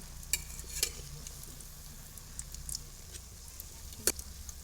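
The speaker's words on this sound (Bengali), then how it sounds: "আস্তে আস্তে জাল দিয়ে ভাজবেন, তাহলে উপরে পুড়েও যাবে না, কাবাবগুলো ফুলে ফুলে উঠবে" Gentle, low sizzling of cauliflower kebabs frying over low heat in a pan, with a few faint ticks and pops scattered over the quiet hiss.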